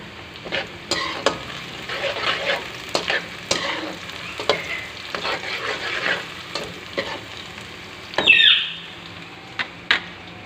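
Crushed garlic fries in a pan, giving a soft sizzle under frequent sharp scrapes and taps of stirring, with a louder hiss burst late on, and no one speaking.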